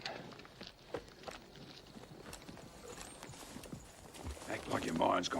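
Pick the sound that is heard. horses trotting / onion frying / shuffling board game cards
horses trotting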